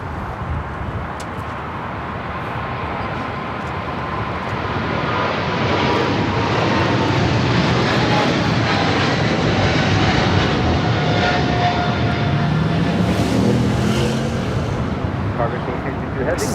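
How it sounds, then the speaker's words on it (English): A Cargo King Boeing 777 freighter rolls for takeoff at LAX, bound for Shanghai, its engine roar building from a steady rumble to a louder, sustained thunder with faint whining tones. "This is the Cargo King flight 222 taking off to Shanghai on a 777 freighter"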